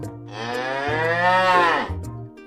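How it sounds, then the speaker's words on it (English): A loud, drawn-out cow moo with a rich, bellowing tone that rises and then falls, heard close up with no other sounds. "Who is this big funny milk machine? It's a cow."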